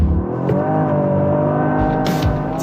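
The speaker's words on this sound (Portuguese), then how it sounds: "Este é o Toyota GR Yaris. Tem um motor 3 cilindros" A Toyota GR Yaris with a 1.6-litre three-cylinder 261 hp engine revs at the Autódromo Internacional do Algarve, a loud, close, rising engine note with quick shifts and a brief whoosh near the end.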